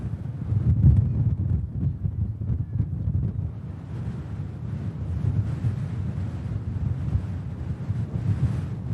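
Blustery wind buffets the microphone at Manchester Airport, a steady loud rumbling roar with gusty swells throughout and no talking.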